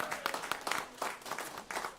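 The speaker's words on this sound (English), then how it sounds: "Let's give that a round of applause." An audience at a celebration event breaks into brief applause, a short burst of scattered clapping with a few louder claps.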